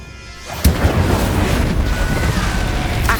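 The Incendio fire spell in Hogwarts Legacy bursts with a sudden loud whoosh and boom, then becomes a sustained roaring, crackling rush of flame.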